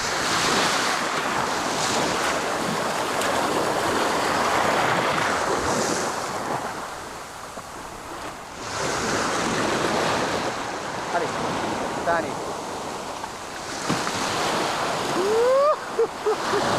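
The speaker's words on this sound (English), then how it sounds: "At 47, Ubet rides the first wave of his life." Ocean surf in the Maldives rolls and breaks in steady loud washes under strong wind buffeting the microphone, with a short whistling squeak near the end and no clear talking.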